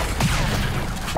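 Gunfire in the mobile shooter game Thetan Arena: a dense, continuous burst of rapid shots with booming low end, sustained at steady loudness for the full second without pause.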